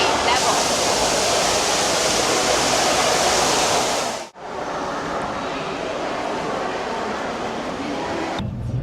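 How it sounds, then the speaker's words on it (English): Detian Waterfall on the China–Vietnam border in Chongzuo, Guangxi, roars loud and continuous, a dense rushing wash that drops out for an instant midway before resuming just as strong. "Now I'm in Detian Waterfall."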